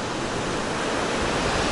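Steady rushing wash of sea waves on the shore, a continuous broadband surf roar, close and fairly loud with no voices.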